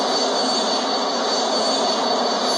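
A simulated aircraft engine in Real Flight Simulator drones steadily and loudly, a continuous broadband roar with a constant whine on top, unbroken for the whole stretch with no speech.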